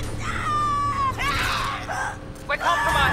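Screaming in the video game Mass Effect 2, a loud, high, drawn-out shriek with wavering pitch that repeats in several bursts over about three seconds, set against game sound.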